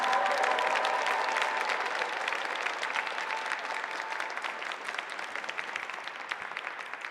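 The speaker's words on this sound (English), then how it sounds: "Let's give Lion Dance Me another big round of applause." Audience applauding a lion dance troupe at a Lunar New Year heritage celebration, a sustained wash of clapping from a crowd that slowly thins out over several seconds.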